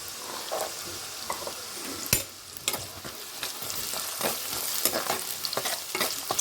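Carrot pieces and peas frying in a pan with onion, heard as a constant bright sizzle broken by sharp scrapes and clacks of a spatula stirring, close up and without any talking.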